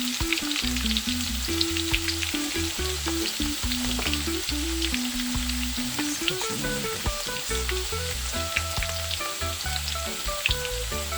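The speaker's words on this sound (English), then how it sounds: "Just want to start browning a little bit, just get a little color." Turkey wings sizzle and fry as they brown in a pot for Jamaican stewed turkey, a steady close crackle with occasional stirring noises and no voices.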